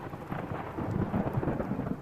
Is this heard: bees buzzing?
no